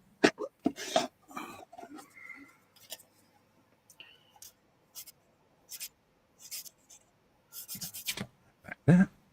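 Short, scratchy rasping strokes of a sanding stick in irregular bursts, close and fairly quiet with pauses between.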